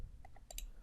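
A computer mouse clicking a sign-up button, a few crisp little clicks in quick succession, faint and close against a quiet room hum.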